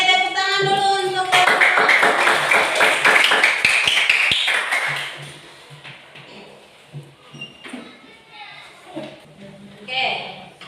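A classroom of students claps for their class during a math lesson, a burst of loud clapping in the first few seconds that thins out into scattered claps under a teacher's talk and children's voices.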